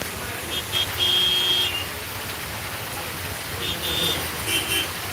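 Steady rain hissing over a street in Sylhet, a dense broadband wash at moderate level with faint beeping tones and distant traffic mixed in.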